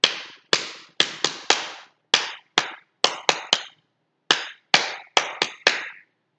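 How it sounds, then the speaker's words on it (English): Sharp, distinct hand claps in short groups, one at a time with brief gaps between them, from a children's teacher leading a phonics song lesson. The claps are close and crisp with no talk over them. "Now we're gonna clap 5 times."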